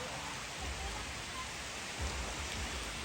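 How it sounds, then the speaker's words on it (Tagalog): Heavy rain pours down in a steady, dense wash of noise, close and continuous, with no talk. "Ang lakas ng ulan."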